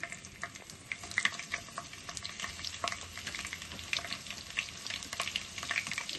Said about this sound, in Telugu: ఇప్పుడు మనం సన్నగా కట్ చేసుకుని పచ్చిమిర్చి వేసుకుందాం.